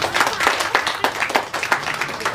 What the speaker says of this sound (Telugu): ఒకసారి క్లాప్స్ కొట్టాలండి